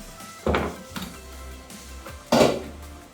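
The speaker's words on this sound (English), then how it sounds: "I'm going to dish up some rice" Rice being dished into a bowl in a home kitchen, heard as a few distinct clinks and thunks of utensil against dish, two louder knocks standing out over a quiet background with no talking.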